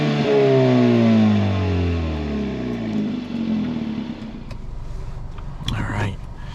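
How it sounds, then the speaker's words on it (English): A 2024 Kia Forte GT with a throaty exhaust pulls away under acceleration, its engine note rising through the gears, loud and close from inside the cabin, then easing to a steady drone. "this actually has a pretty throaty exhaust, so I'm pretty excited to see what it sounds like when we give it the beans"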